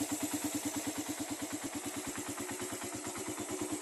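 A Suzuki Raider carbureted motorcycle engine idles just after a cold morning start, a steady, rapid low thumping pulse with a slight ticking clatter layered on top, close and continuous with no talking.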